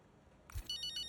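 A phone starts ringing in the F1 25 racing game, a short electronic ringtone cutting in after a low thump and repeating its bright tone pattern, fairly quiet and alone.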